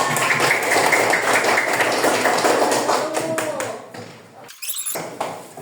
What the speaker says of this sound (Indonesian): beri tepuk tangan untuk Keisha